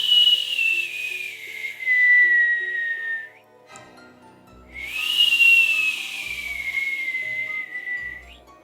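A person imitates a whistle with their voice: two long, drawn-out whistled tones that slide downward, separated by a short pause, loud and close.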